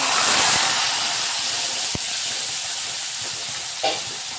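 Onion, tomato and green chilli paste hits hot oil in a pan for spinach gravy, a loud hissing sizzle that starts strong and slowly settles, with a few scraping stirs.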